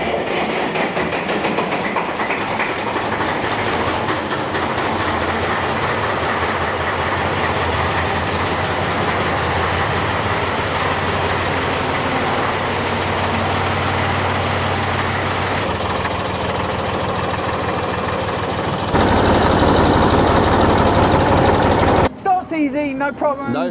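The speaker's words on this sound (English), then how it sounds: "This is an official tractor cold start." A Porsche diesel tractor idles after a cold start, a steady low chugging rumble close by that holds throughout, with a louder stretch near the end and voices talking over it.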